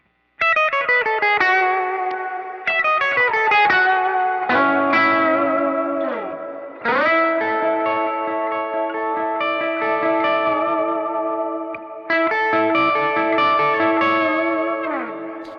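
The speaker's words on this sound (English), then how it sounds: "I got some drive and reverb." Electric guitar played through overdrive and reverb on a Temple Audio Trio 21 pedalboard, sustained chords and melodic lines ringing out with a thick, saturated tone and lingering tails, no voices.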